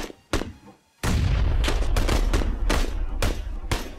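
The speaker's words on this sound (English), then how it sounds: "Taking shots, I'm just suppressing fire. Keep shooting." Gunfire in the battle royale game PUBG: a rapid series of loud, close gunshots in bursts, starting with a couple of single shots and then continuing as heavy suppressing fire without talking.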